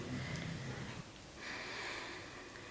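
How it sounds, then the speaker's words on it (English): Forceful rhythmic nasal exhales of Kapalabhati breathing, rushing, airy puffs pushed out through the nose, heard close and alone in a quiet room. "Kapalabhati looks and sounds like this"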